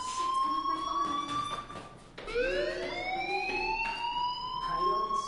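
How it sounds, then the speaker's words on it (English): In the video game Life is Strange, a school fire alarm wails with rising electronic sweeps that repeat in a steady cycle, loud and continuous with no talking over it. "do you hear that fire alarm? That means you should be outside."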